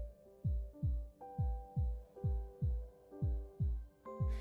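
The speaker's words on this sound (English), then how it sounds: "Their heartbeats all sound the same" Rhythmic heartbeat in the video game Love and Deepspace, about two beats per second, each a deep booming thump like a bass drum over a soft musical hum, steady and close with no talking.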